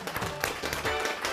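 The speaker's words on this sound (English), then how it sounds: "Round of applause for them." Applause from an audience at a middle school Science Bowl finals, a steady patter of many hands clapping at moderate volume, without speech.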